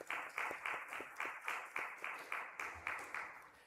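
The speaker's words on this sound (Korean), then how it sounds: "우리 격려의 박수 부탁드립니다" A church congregation claps in slow, even unison, about a dozen steady beats in a row, close and moderately loud with no talk over it.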